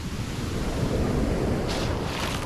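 Ocean surf rolls and washes over sand on a beach, a steady broad wash of breaking waves with wind noise, fairly loud and close, with a brighter hiss of water swelling near the end.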